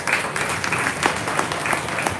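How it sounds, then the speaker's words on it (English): Steady applause from a crowd at a county junior fair beef show, dense overlapping clapping at moderate volume, continuing throughout without voices. "Let's give all these kids a nice round of applause."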